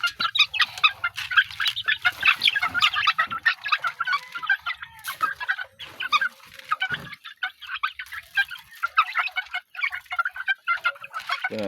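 Chickens, including Rhode Island birds, cluck and squawk busily at feeding time, a dense, continuous chorus of overlapping calls close by.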